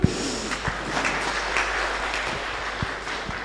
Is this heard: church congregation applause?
yes